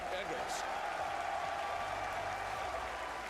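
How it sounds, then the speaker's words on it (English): A crowd applauds steadily, a dense wash of clapping and cheering that holds at an even, loud level throughout. "Give them a round of applause,"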